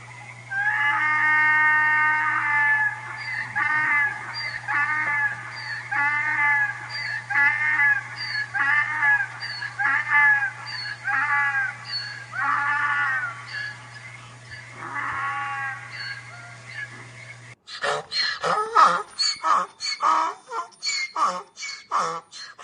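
A donkey's long, harsh, repeated bray rises and falls in rhythmic heaves, loud and close, over a steady low hum, then breaks into choppier bursts.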